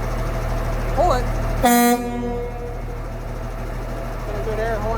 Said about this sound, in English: Got a good air horn system on it